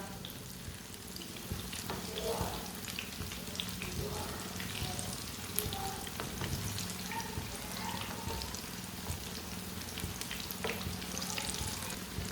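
Spinach pakoras frying in hot oil as they are turned over, a steady close sizzle and crackle running throughout with light scraping and stirring touches, no talking.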